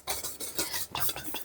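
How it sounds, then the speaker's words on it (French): Flour is mixed with a small whisk in a bowl, making quick, busy scraping and tapping strokes that are close and continuous. No one speaks. "On va prendre 150 g de farine qu'on va mélanger avec un petit fouet."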